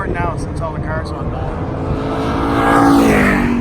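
Race cars rushing past on a road course, a loud continuous engine roar that swells toward the end as a car nears, with a voice talking over it at the start.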